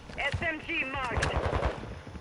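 Rapid automatic weapon fire from an SMG in an online shooter game crackles in quick bursts beneath a player's excited voice chat, fairly faint and mixed with the talking.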